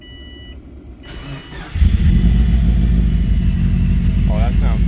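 A 2004 Subaru WRX wagon engine, freshly fitted with a new timing belt and with the radiator cap off, cranks and catches partway through, then settles into a loud, steady idle close by.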